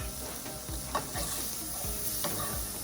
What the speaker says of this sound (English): getting some sear on there again now